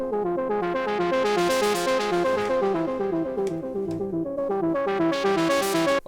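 Melodic house synth arpeggio from a Diva preset, a steady run of bright plucked notes repeating in a driving pattern for several seconds, loud and alone with no voices.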